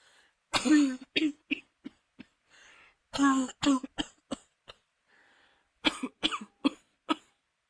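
A voice imitates a fit of harsh coughing: several bursts of repeated hacking coughs separated by short pauses, close and loud.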